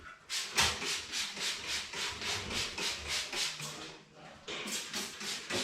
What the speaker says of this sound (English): So I'm going strip up to the seam